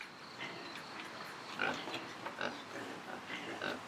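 Soft island pig grunts and snorts come in scattered short bursts over a quiet outdoor background in shade, moderately close and fairly faint.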